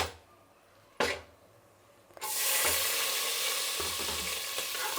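Green chilies hit hot oil with cashews for jeera rice, a loud close hiss bursting up after a couple of clinks and holding steady, with faint stirring scrapes.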